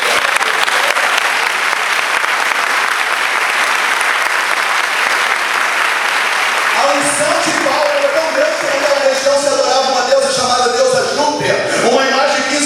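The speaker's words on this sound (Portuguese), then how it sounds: "Você pode aplaudir?" Church audience applauding during a sermon, a dense steady clapping that fills the whole stretch, growing more varied and layered toward the end, close and loud.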